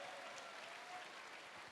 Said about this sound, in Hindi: मैं चाहूंगा एक बार जोरदार तालियां होनी चाहिए सर के लिए